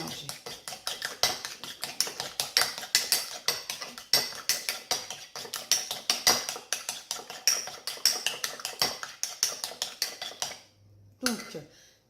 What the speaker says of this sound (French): Et on va mélanger.